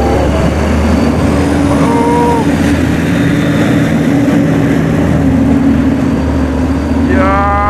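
A heavy truck revs hard on a slippery, wet road, its loud, close engine holding a steady droning roar throughout, with higher whining tones rising near the end.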